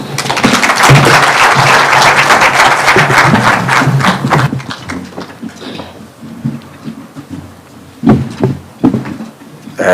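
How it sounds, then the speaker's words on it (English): A standing audience at a meeting with United Nations agencies in Karen, Kenya gives a loud burst of dense applause. It lasts about four seconds and then stops abruptly, followed by scattered thumps and quiet room noise. "Please be standing and let us give him a hand clap."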